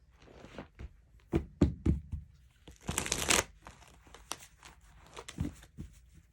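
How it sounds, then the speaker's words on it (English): Playing cards are shuffled by hand in a few quick riffles and taps, close and fairly quiet, with no talking. "I'm gonna do a quick little shuffle."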